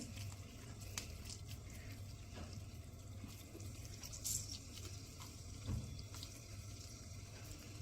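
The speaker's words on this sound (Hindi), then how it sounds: "इसको इस तरह से उठाएंगे हाथों में और ये देखो इस तरह से इसका पानी निकाल देंगे सारा जितना भी है" Water drains out as cooked spinach for sarson ka saag is squeezed by hand, a faint, continuous trickle and dribble with a couple of small wet splashes, close and quiet.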